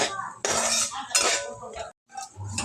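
Toor dal roasts in oil in a pan while a spoon stirs it. Two loud bursts of metallic scraping and clatter are broken by a brief silent gap, then a softer stir follows.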